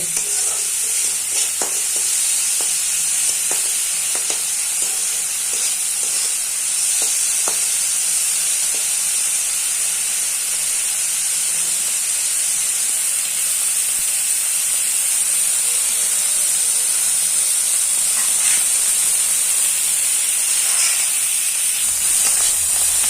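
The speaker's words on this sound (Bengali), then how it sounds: "মাছগুলো ভাজা হয়ে গেছে" Fish seasoned with salt and turmeric sizzles in hot oil in a wok, a steady, loud, close hiss with faint scattered crackles and stirring clicks throughout, no voices.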